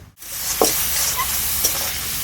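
Ginger and spices frying in an oily pan, a steady close sizzle with a soft stir or scrape as the spatula moves.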